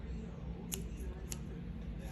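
Scissors snipping crochet yarn: two or three quick, crisp close-up clicks of the blades over a low room hum.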